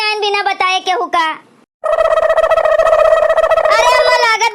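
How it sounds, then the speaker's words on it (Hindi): Phone ringing in a cartoon: a loud, continuous electronic ringtone with a steady pitch starts after a brief pause that follows animated voices talking, and runs on to the end. "लागत बा केहू के फोनो आवत बा"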